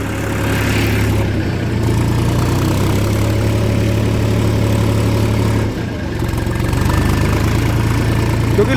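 Tractor engine running in low gear with a rotavator attached in a farm field, a loud close steady chugging drone with a brief dip in power partway, no talking.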